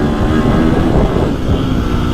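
A KTM 350 XCF motorcycle engine roars loud and steady up close, a dense continuous drone with no speech over it.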